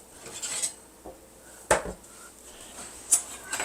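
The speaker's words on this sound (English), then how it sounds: "I'm going to grab them out of the oven" Metal cake pans for an old-fashioned Appalachian stack cake clatter and clink as baked layers come out of the oven, a few sharp scattered knocks against a quiet kitchen hush.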